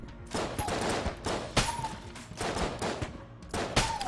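Rapid bursts of gunfire in the video game Enter the Gungeon, repeated sharp shots in irregular volleys with small whistling effects between them, no voices.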